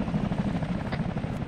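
Military helicopter in ARMA 3, a loud steady rotor and engine thrum with rhythmic chopping, heard up close and continuous throughout.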